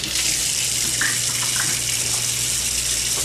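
Hands washed under a running kitchen tap, a steady loud gush of water with a few faint splashes and no talking.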